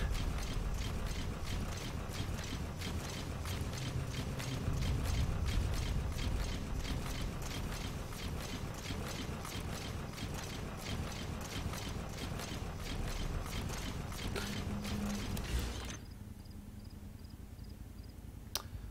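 Steady metallic clanking and ratcheting steps of the D-Walker mech in Metal Gear Solid V march on for most of the clip, then cut off abruptly to near quiet for the last few seconds.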